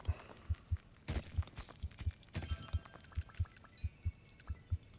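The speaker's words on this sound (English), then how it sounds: "There's kind of like a heartbeat sound happening." Rhythmic heartbeat pulses from the video game Dome Keeper, steady low double thumps repeating throughout over a wash of game ambience and brief swells of effects.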